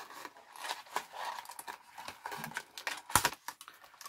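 Crinkly packaging rustles and tears as a rubber stamp with a picture frame is unpacked, a run of soft crackles and snaps close by with one sharper rip near the end.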